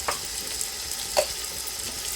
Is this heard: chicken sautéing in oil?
yes